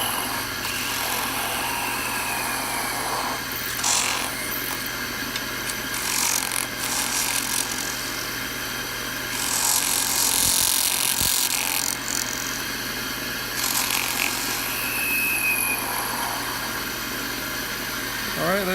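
A skew chisel cuts a spinning wood blank on a lathe, giving a steady scraping, shaving rasp with brief louder surges over the machine's constant low hum, close and continuous.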